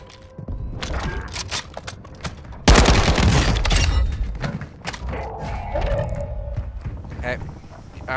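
Video game gunfire with a sudden loud burst of shots partway through, amid scattered thumps and mechanical clatter before and after, with faint voices underneath.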